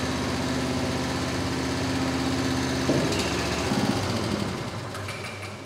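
The engine of a JCB tracked barrow runs nearby with a steady, buzzing, light-engine idle. Partway through its pitch shifts and the note changes, then it eases slightly toward the end. No one speaks over it.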